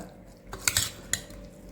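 Cooked dal methi spooned from a pressure cooker into a serving bowl: a brief scrape and a couple of close metallic clinks of a ladle against the pot and bowl.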